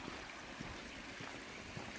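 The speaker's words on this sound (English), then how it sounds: "We've got a nice little stream running down here in this canyon" A small stream runs down a mountain canyon on a day hike, a steady, soft rushing and trickling of water that stays even throughout, with no voices.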